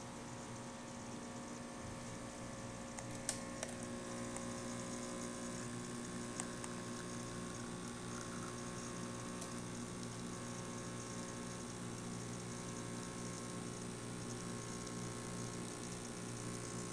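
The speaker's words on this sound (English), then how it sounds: "So let's make a espresso shot first." A serviced Lelit Elizabeth espresso machine pulls an espresso shot, giving off a steady mechanical pump hum with a constant mains buzz and a few faint clicks, with no talking.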